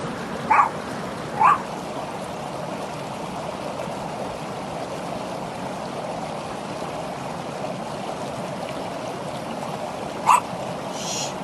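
A dog barks three times, short sharp yaps, the first two close together and the last much later, over a steady rushing stream or water background in an album promo video.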